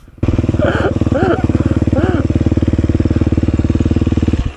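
An engine runs loud and close with a steady, throbbing rumble on a grass turn track. Its pitch rises a little in short pulses as it is given gas to pull out of corners.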